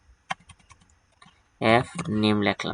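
A few sparse computer keyboard keystrokes while typing a first name into an HTML form field, soft clicks in the opening second, followed by a person talking over them.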